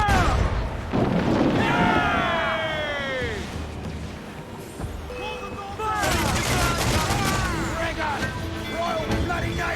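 Ship cannons fire volleys in Assassin's Creed IV Black Flag: booming shots and gunfire crackle across a naval battle, with shouting voices, whistling projectiles and a second loud burst partway through.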